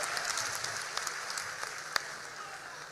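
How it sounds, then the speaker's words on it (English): Steady, fairly quiet audience applause at a political youth empowerment event, a dense even patter of many hands with one sharper clap standing out, no speech. "a round of applause for him."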